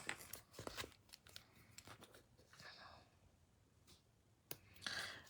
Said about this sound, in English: we need some scissors so that we can cut some of